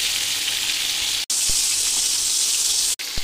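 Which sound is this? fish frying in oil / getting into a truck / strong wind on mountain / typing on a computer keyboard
fish frying in oil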